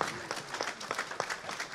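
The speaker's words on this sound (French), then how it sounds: "je vous remercie d'applaudir." An audience at an event claps in a brief burst of scattered, fairly quiet applause, uneven and fading within a couple of seconds.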